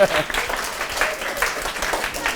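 Students at a middle school drama session applaud a classmate, a burst of clapping from a small group that starts loud and settles into a steady patter, with voices mixed in.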